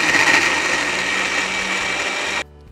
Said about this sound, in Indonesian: Kemudian kita akan blender halus.